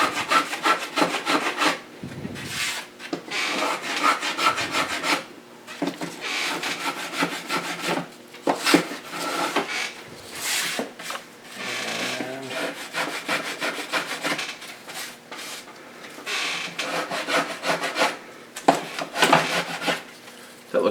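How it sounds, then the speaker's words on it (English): Repeated rasping strokes of a hand plane shaving a wooden back brace, irregular back-and-forth scrapes close by with brief gaps between passes. "you can take your plane just to carefully even it out"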